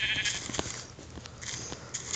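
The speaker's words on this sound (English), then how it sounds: "Okay, so now I'm just gonna start killing the sheep." Sheep bleat repeatedly in the Minecraft-style game Pixy Craft survival, several short faint cries scattered over a steady background, with no talk.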